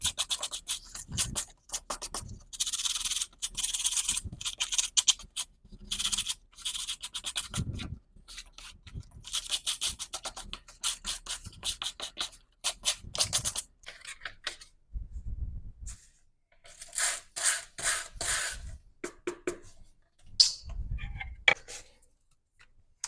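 A loquat leaf is scrubbed with a small vegetable brush to strip off its fuzzy hairs, giving close, bursty scratchy rubbing strokes separated by quiet pauses.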